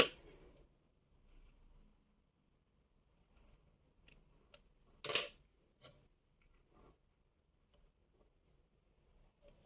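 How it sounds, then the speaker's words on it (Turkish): Scissors snipping excess ribbon while a henna crown is made, a few sparse quiet cuts with one sharper close snip in a mostly silent room. "Fazla gelen kısmı kesiyorum."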